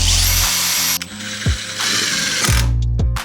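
A cordless drill drives screws into a DIY planter box, several loud close bursts of whirring with ratcheting clicks, separated by short pauses and abrupt stops.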